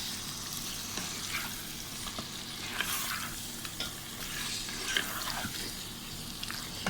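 Salted, sliced bitter gourd is mixed in a pan, giving a soft, steady sizzle with scattered light scrapes and stirring clatter, fairly quiet and close.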